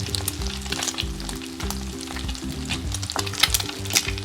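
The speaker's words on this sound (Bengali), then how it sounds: "আস্তে আস্তে এগুলো ভাজা হয়ে যাবে, কারণ আমার ভিতর পর্যন্ত কুক হইতে হবে।" Potato and egg shami kababs fry steadily in a pan, giving a continuous close crackling sizzle with a low steady hum of background music and no talking.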